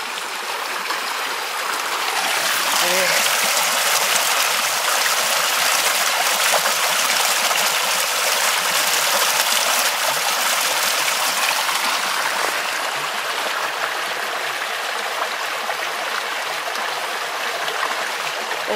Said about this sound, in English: There's some water weaving its way around.